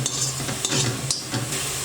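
Coconut and jaggery sweet filling for steamed modak is stirred and sautéed in a pan, with a steady soft sizzle under repeated scraping strokes of a spoon, close and fairly quiet.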